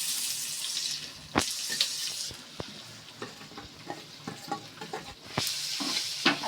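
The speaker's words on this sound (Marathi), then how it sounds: "आता आपलं तेल गरम झालेलं आहे. त्याच्यामध्ये आपण कांदाही टाकूया." Chopped onion hits hot oil in a pan for a baingan bharta, setting off a loud sizzle with sharp crackles and spoon scrapes that stay close and busy for the whole stretch.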